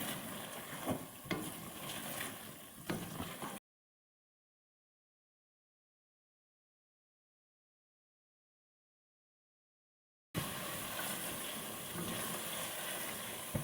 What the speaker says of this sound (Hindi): और इन सब मसालों को अच्छी तरह मिक्स कर लेंगे।